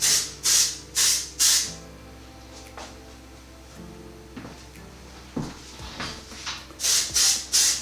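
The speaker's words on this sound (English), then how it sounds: "And then a texturizing spray that can go all throughout the rest of the hair." Texturizing hair spray goes on in short, close, loud hissing bursts, three at the start and three at the end, with quieter rustling of hair in between.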